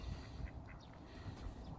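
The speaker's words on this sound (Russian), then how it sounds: "А тут у нас утки и Максимушка." Ducks quacking outdoors in Austria, a few faint, scattered quacks sitting over a rumbling, windy background with no voices.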